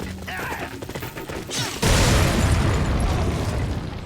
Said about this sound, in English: let's go ahead and grenade these guys